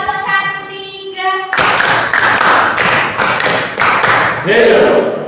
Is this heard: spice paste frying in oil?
no